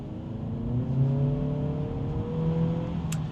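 A turbocharged Acura Integra heard from inside under hard acceleration, its steady engine drone climbing smoothly in pitch for a few seconds with no talking.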